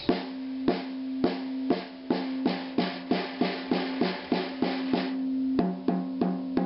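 A snare drum with its snares loosened is struck in a steady series of about fifteen hits, each a dull, ringing thud with a sustained tone, close and moderately loud, with no talking.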